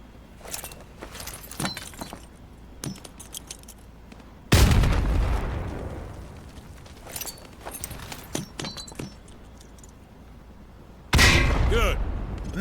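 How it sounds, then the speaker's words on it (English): Frag grenades going off down a firing range in MW2 Remastered, two loud booming blasts several seconds apart, each rolling off in a long rumbling tail over quieter clatter and shuffling. "Toss the grenade down the range to take out several targets at once."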